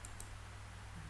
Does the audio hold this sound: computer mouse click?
yes